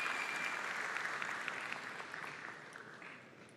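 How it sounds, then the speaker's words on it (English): Audience applause fills a startup summit hall, a dense sustained clapping from a large crowd that holds steady and then tapers slightly toward the end. "Can we get a big applause for the team who produced it?"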